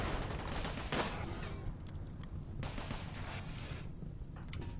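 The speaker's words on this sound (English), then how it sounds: "And that's another Inferno cannon" Inferno cannon fire in RimWorld, heard as a dense ongoing barrage of crackling bursts and booms with one sharp report near the start, layered over steady battle noise.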